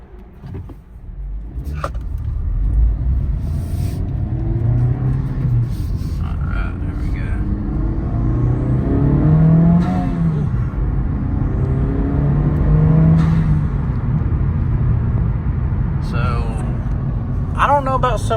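Honda Civic Type R FL5 fitted with a PRL turbo inlet, heard from inside the car as a steady engine rumble and whir under accelerating, with a person talking over it throughout.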